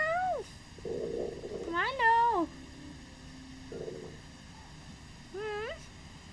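A cat meows several times in a survival video game, rising and falling cries spaced across a few seconds, with players talking between and around them.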